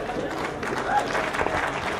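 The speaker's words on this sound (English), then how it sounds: "let's give our class-winning gilts a big round of applause" At a 4-H/FFA swine show, the crowd gives brief, fairly quiet applause for the class-winning gilts while an announcer keeps talking over it.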